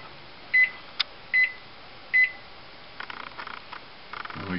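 A COLORTRACK color analyzer timer gives three short electronic beeps at a steady pace and one brief click, then quieter faint ticking and rattling follows, recorded close by.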